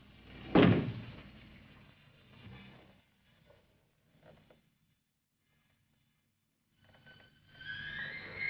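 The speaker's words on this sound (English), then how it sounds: "Knock once if you hear me." A single sharp knock or thud strikes a closet door in a 1962 horror film, loud and close, followed by quiet rustling, a long near-silence and faint later sounds.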